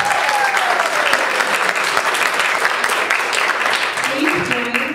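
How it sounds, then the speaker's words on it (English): An audience at a panel on the documentary "Legends of the Knight" at The Norman theater applauds for Laura Kennedy, loud, dense and sustained clapping from a full room, with cheers and voices mixed in throughout. "Applause for Laura Kennedy, please."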